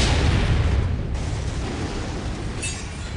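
Heavy weapons fire and explosions roar in the MechWarrior 5 video game during a mech battle at a fortress, a loud, dense, rumbling barrage that runs continuously without pause.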